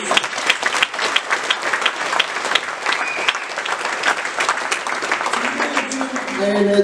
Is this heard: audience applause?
yes